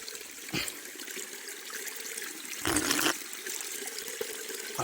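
Water from a perennial mountain spring on Thoppiyasamy hill trickles and splashes steadily nearby, with a brief louder gush in the middle and no voices.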